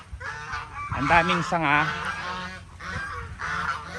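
Geese honking on a rural farm after rain, several loud, close nasal calls clustered in the middle, while someone speaks in Filipino over them and soft background noise continues.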